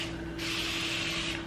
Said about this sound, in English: I'm gonna spray the wig with water.